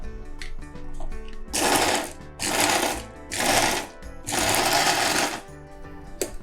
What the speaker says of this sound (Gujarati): હવે આપણે ગ્રાઇન્ડર કરી લઈએ।